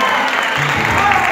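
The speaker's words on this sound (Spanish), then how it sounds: "Yo quiero que den nuevamente un aplauso bien fuerte a toda esta banda." Audience applause for a band under a carpa tent at La Carpa De La Musica, a steady wash of clapping filling the short stretch with a voice mixed in.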